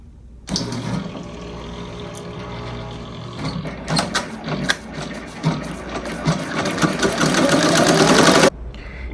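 An embroidery machine stitches appliqué onto lettering, a rapid mechanical whirring and clattering needle rhythm that runs steadily for several seconds, rising a little in intensity, then cuts off abruptly near the end.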